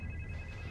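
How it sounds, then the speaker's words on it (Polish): A telephone rings in a tense indoor scene, a steady electronic tone sounding continuously and fairly quietly over a low background hum. "Odbierz telefon."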